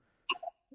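A single short cough, sharp and near, rises out of near silence and trails off quickly, followed by a faint breath.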